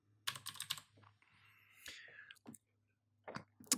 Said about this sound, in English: we'll type in Control F and then linear